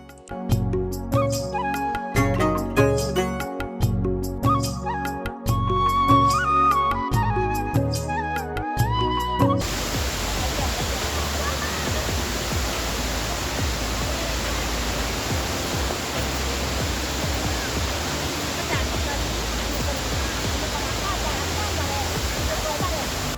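Roadside waterfall on a road trip near Kodaikanal: after about ten seconds of music, a steady, loud, broadband rushing roar of falling water fills the rest of the clip without a break.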